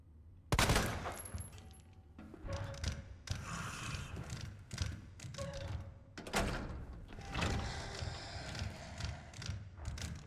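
Gunfire in the Resident Evil 2 Remake video game comes as a series of sharp, loud bursts and thumps separated by short pauses, with mechanical clatter between the shots.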